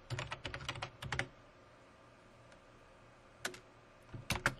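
Typing on a computer keyboard, with quick clusters of close, crisp key taps at the start, a quiet pause, then two more short bursts of keystrokes.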